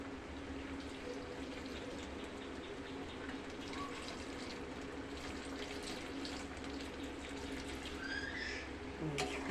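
Water is poured into a pot of pointed gourd and shrimp curry, making a steady, fairly faint gushing wash that runs unbroken for about nine seconds.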